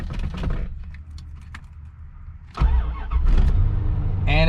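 A 1996 Corvette C4 LT4 high-mileage engine cranks briefly and catches, then settles into a steady idle, preceded by some clicks and shuffling noises inside the car.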